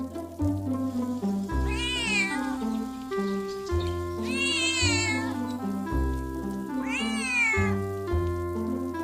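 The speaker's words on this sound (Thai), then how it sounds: "มีแมวด้วยเหรอเนี่ย เจ้าแมว น่ารักจัง" Three wavering cat meows in Sakura School Simulator rise over a looping game melody with soft rain-like patter, each cry spaced a few seconds apart.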